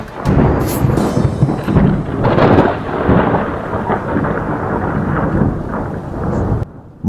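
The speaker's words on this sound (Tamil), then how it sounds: "மழை ஆரம்பத்துல இருந்ததை விட இப்போ அதிகமா பெய்ய ஆரம்பிச்சிருச்சு." Heavy, intensifying rain pours down over open cropland as thunder rolls and rumbles loudly through the downpour, with surging bursts before the sound cuts off abruptly near the end.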